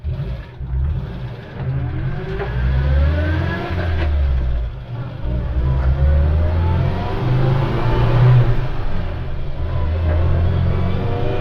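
A Trekka, New Zealand's small utility car, pulls away in first gear and accelerates through the gearbox, its mid-pitched engine rising and falling in pitch between shifts, close and continuous.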